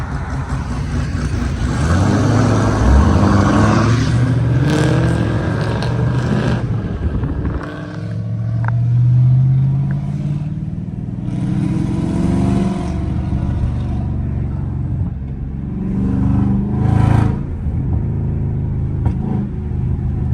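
A Chevrolet Camaro ZL1 with a big aggressive cam revs hard while driving, loud close engine roars rising and falling in repeated pulls over a constant low rumble, with no talk.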